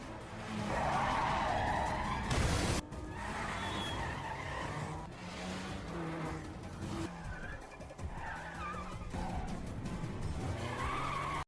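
A van's tires screech and skid through a movie car chase on city streets, loud and sustained, with engine roar and a sharp crash-like burst partway through under swelling score.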